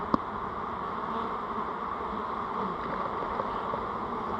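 Bees trapped in a varroa test jar give off a steady, dense buzzing that holds at an even level throughout, close and continuous, with no talk over it.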